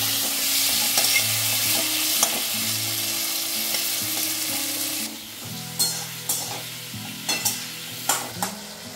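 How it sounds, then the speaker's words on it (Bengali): Potatoes frying in a pan with turmeric, stirred by hand: a steady sizzle under repeated scraping and clattering strokes, growing sharper and more distinct in the second half as the spoon knocks the pan. "আলুটা একটু নাড়াচাড়া করে নিলাম"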